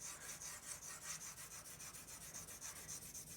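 A well-sharpened colored pencil shades across paper in steady, rapid back-and-forth strokes going one direction, producing a soft, even, rhythmic scratching that stays close and quiet with no talking.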